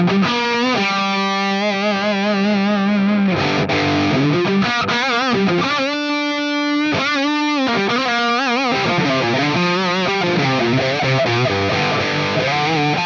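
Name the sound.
electric guitar through Axe Fx Soldano amp model, stock settings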